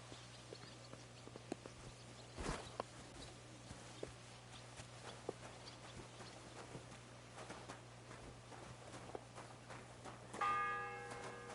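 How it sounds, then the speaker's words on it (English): A single church bell strike rings out in the medieval video game Kingdom Come: Deliverance, a loud clang that decays over soft ambient game sounds with faint footstep-like clops and a brief tonal chime at the end. "The first bell. Another 11 to go."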